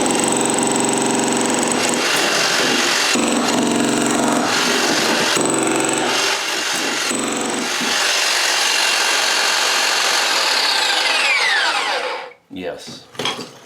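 A Harbor Freight demolition hammer runs on power setting 3, producing a loud continuous hammering buzz with short pauses and restarts, then stopping near the end with a few handling knocks.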